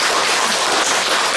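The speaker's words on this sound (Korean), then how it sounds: "미리 박수 한번 쳐드리잖아요" Church congregation applauding during a Korean sermon at Juhyeon Church, a brief, loud, even wash of clapping with no voices.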